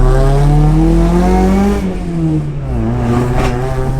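A stock Toyota 4A-GE engine in an AE71 Corolla revs loud and close, its pitch climbing, dipping, then rising again in a throaty, sustained roar.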